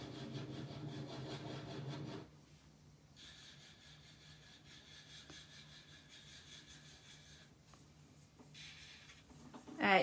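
Buffing across a gel-polished fingernail: a steady, close rubbing rasp that is louder for the first two seconds, then softer and intermittent, ending in a brief louder scrape.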